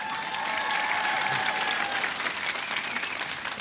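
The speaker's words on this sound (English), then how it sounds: "Pause for applause." Studio audience applause on a TV comedy show, a short burst of steady clapping with faint tonal background sounds underneath and no voices.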